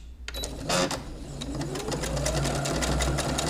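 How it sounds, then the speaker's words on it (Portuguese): A Fadimex sewing machine stitching a stored stitch pattern from memory, running with a steady fast mechanical whir and rapid clicking needle strokes, loud and close. "Ao passo que ela vai fazendo, costurando cada pontinho, ela vai mostrando aqui para mim o ponto que ela está costurando."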